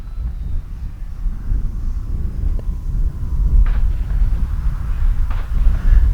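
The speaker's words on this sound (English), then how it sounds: "that wind is not my friend today" Steady low wind rumble buffets the microphone at an RC plane flying field where an FMS PA-18 Super Cub is being flown, a continuous gusty roar with no voices.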